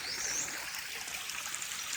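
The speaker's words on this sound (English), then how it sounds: "mixing with the rainwater streams, which are so very common in this part." Rainwater stream running through wooded leopard country near Islamabad, a steady broadband rush of flowing water with a faint bird call up high, continuous and fairly close, no voices.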